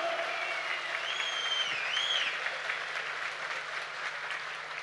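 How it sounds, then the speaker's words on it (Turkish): An outdoor political rally crowd at a Saturday market square in Akhisar claps steadily at a moderate distance, with a faint whistle rising and falling partway through. "bir kuvvetli alkış yapsınlar"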